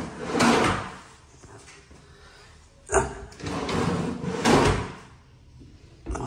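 Cabinet drawers in a newly finished house sliding open and shut, several distinct thumps and rolling slides in sequence, close and fairly loud, no talking.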